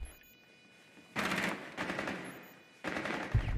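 Rapid bursts of automatic gunfire from the game Rainbow Six Siege, three short sharp volleys separated by brief pauses, loud and close against a quiet game background.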